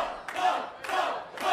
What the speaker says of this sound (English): Look, he's got the crowd going.